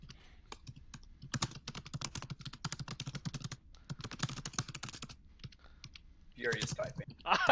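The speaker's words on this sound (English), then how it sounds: "Furious typing. I can't even think as fast as he's typing." Rapid, clattering keystrokes on a computer keyboard in quick bursts, a brief pause midway, then a louder rustling noise near the end.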